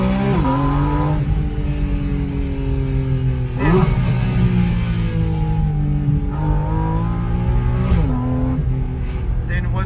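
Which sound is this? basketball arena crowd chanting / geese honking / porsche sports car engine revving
porsche sports car engine revving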